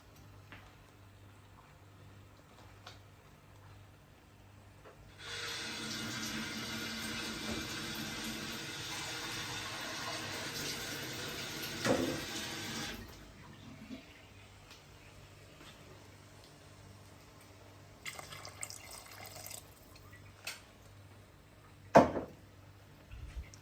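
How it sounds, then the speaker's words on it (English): Water runs from a tap for several seconds in a quiet room, then stops, followed by a short second flow and a few small clinks. "So I've added a bit more water"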